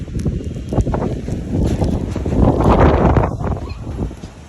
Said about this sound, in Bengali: বাতাসটা পুরো উড়ে যাচ্ছে, খুবই খারাপ অবস্থা বাতাসে এই চারিপাশে।